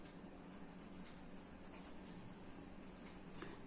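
Steady chalk or marker scratching on a classroom board during a physics lesson, continuous and close, with no talking over it.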